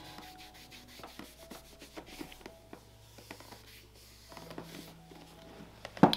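Black finish is stripped from leather shoes by rubbing, producing faint, close, irregular scrubbing and scratching strokes with a brief louder knock at the very end.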